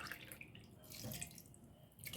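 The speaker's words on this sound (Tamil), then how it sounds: "அதே உலக்கில் மூணு டம்ளர் தண்ணி அளந்து ஊற்றுறோம்" Water streams steadily into a pressure cooker of black rice for pongal, a continuous splashing pour with brief pauses, close and moderately loud, no talking.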